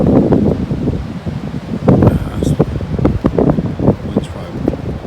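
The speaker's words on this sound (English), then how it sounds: "Wind's probably blowing 10-15 miles an hour. There's some pretty strong gusts." Strong gusts of cold overnight wind at a backpacking campsite on the Linville Gorge East Rim buffet the microphone in uneven, loud rumbling surges with some rustling, and no talking is heard.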